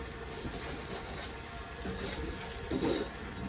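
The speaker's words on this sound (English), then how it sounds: "So I'm going to just add water" Water running softly from a tap into a pot while making prata, a steady faint splashing stream with a brief louder gush near the end, no talk.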